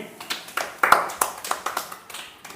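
Children clap their hands in a classroom, a dozen or so sharp, fairly even claps in a steady rhythm, close and clear with no talking over them.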